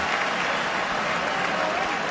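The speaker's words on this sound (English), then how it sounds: "Another huge cheer for Ireland's hooker" A rugby stadium crowd at a Six Nations match between Ireland and Wales cheers and applauds loudly and steadily as Ireland's hooker Rory Best leaves the pitch.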